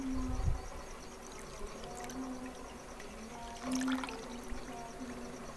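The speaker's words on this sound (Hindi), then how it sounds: "एक मग मैंने इसके अंदर पानी का डाला है" Water poured from a mug into semolina for makhandi halwa, a faint, brief splash near the start and a second soft trickle later over low kitchen background noise.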